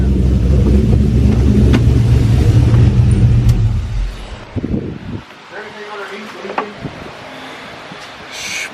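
A 1000hp turbocharged Chevrolet Colorado with a bed-mounted turbo and tailgate-exit exhaust rumbles loudly through its muffler, then cuts off abruptly, leaving quieter clatter and voices talking nearby.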